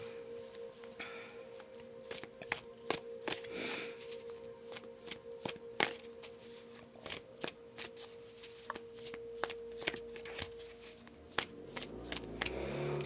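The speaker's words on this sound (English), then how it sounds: "Let me pull some cards for the collective real quick." Tarot cards are shuffled by hand at close range, a run of soft riffling and sharp snapping card clicks spaced irregularly, with a faint steady hum underneath and no talking.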